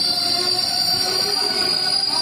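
A train pulling into Madan Mahal railway station, a suburban station of Jabalpur, its wheels squealing in a loud, sustained high-pitched screech over a low rumble of rolling cars.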